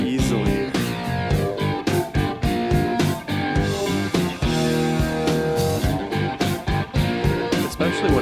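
Hard rock plays loud and dense with driving drums, distorted guitars and full band throughout.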